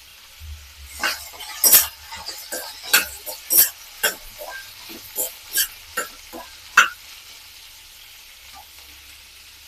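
Ginger, garlic and green chillies fry in a hot pan, soft sizzling broken by a dozen sharp scraping and clinking stirs of the spoon against the pan, fairly close.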